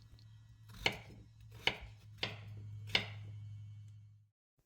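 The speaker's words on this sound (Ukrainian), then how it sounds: "4 великі картоплини чистимо та нарізаємо середніми шматочками." Four sharp knife chops through large peeled potatoes cut into medium pieces, spaced about a second apart, close and distinct over a steady low hum with no talk.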